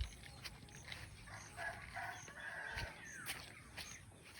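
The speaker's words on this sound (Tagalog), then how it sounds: "Ito ang ating kulungan ng chicken." Chickens in a pen on a farm after a night of heavy rain, giving brief, distant calls and clucks over steady background noise, with no voices.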